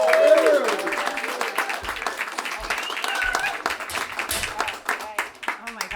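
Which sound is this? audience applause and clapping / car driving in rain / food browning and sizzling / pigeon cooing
audience applause and clapping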